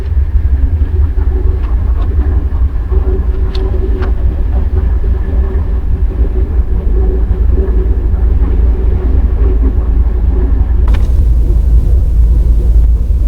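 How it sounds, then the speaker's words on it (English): A train rumbles steadily with a low continuous drone and faint squeals, a loud sustained passing roar throughout. "There goes the train."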